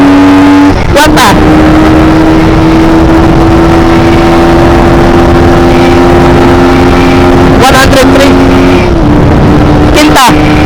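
A stock carbureted 2022 Suzuki Raider 150 motorcycle accelerates hard up through its gears, a loud, close engine drone rising in pitch with sharp breaks at each shift, while someone talks over it.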